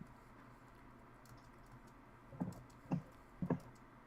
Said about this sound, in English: I'm just typing out a Cliff Notes version to kind of jog my memory